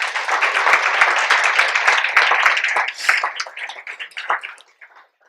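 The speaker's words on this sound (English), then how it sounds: "Let's have a big applause for Chloe." A crowd at a gala claps loudly at first, then the applause thins into scattered claps and fades out.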